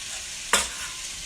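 Cornstarch-coated chicken hits a hot pan, giving one sudden sharp sizzle burst that quickly settles into a faint steady hiss, with no talking.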